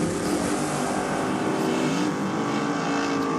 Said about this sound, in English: Lone Tirana chasing down Eden Abella now, all out of the throttle before half track